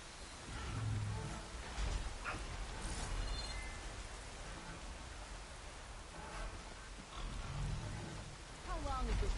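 Rain pours down in the video game Horizon Forbidden West, a steady broadband hiss that stays constant throughout, with a few brief game effects over it.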